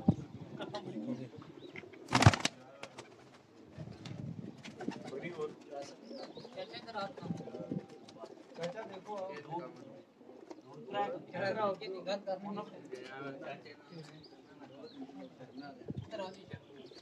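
Pigeons coo softly close by, a Teddy pigeon among them, with chirps and a brief burst of wing flaps, while someone talks throughout.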